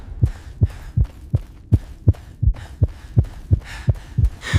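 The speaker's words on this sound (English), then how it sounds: "the heartbeat of the egg syncing with my own" A loud heartbeat sound effect beats steadily and evenly, about eleven deep thumps in under five seconds, with a low hum beneath and no voices.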